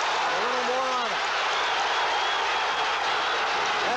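A boxing crowd at the Hilton cheers and applauds in a steady, loud roar of clapping and voices during a fight, with a commentator talking over it throughout.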